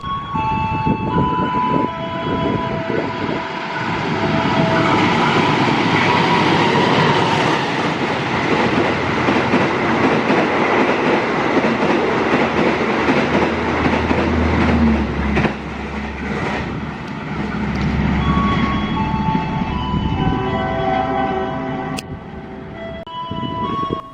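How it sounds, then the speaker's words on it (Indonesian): Argo Merbabu passenger train passing a station: a loud, sustained rolling roar with rhythmic clickety-clack of wheels on rail joints and some screeching tones, filling the whole stretch without talk. "Berikutnya kereta api Argo Merbabu 24."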